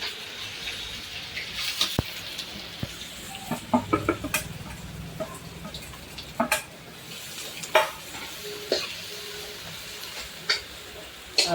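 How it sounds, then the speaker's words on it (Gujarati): Chopped onion frying in a garlic-ginger paste tempering for Manchurian gives a soft continuous sizzle with occasional spoon scrapes and stirring clatter, while a chicken clucks in the background. "ડુંગળી નખાઈ ગઈ. ડુંગળીને તળવા દઈશું થોડીક વાર."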